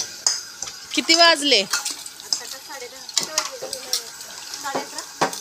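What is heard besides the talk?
washing dishes and utensils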